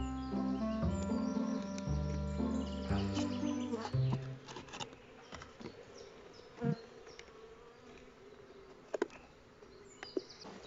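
Dense buzzing of many honeybees being gathered by hand into a small crate, steady and close, with a tonal hum at first giving way to scattered clicks and knocks.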